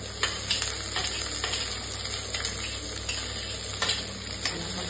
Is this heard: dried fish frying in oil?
yes